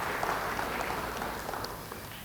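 A congregation at a church service claps in a brief burst of moderately loud, dense applause that tapers slightly toward the end.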